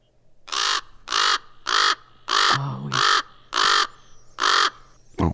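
Eight loud, hoarse calls from a common raven in a regular rhythm, each about half a second long, with a faint low hum underneath.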